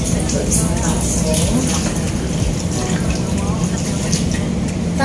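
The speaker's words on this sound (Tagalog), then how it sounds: "Lalagyan na lang natin ang tubig." Water poured into a drinking glass while preparing sweetened cassava, a steady splashing pour that runs continuously under someone talking nearby.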